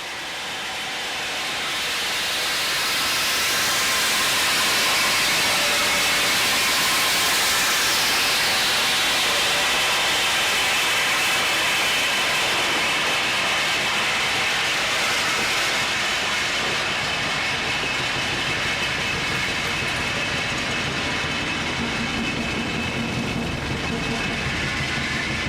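A ballast hopper train on heritage railway track, making a second pass uphill along the line: a loud, continuous roaring and grinding rush that swells within a few seconds and holds steady, with faint talk beneath it.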